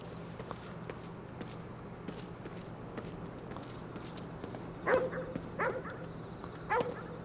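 A dog in the Ghostwire: Tokyo video game, in the streets of Shibuya, gives a few soft yips and whimpers over a quiet ambient background with faint footsteps.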